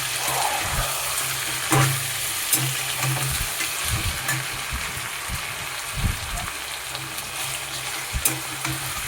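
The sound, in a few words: frying and stirring ginger and garlic paste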